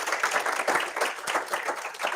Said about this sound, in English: Can you please all give them a round of applause?